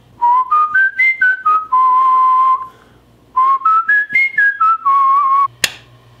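A person whistles a bright, clear melody in two phrases of quick rising and falling notes, each ending on a held tone, with a brief pause between.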